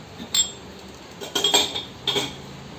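Teacups, a stainless steel cup and two spoons clink as they are lifted out of a Bosch dishwasher, three short bright bursts of metal and china knocking together, close and fairly quiet.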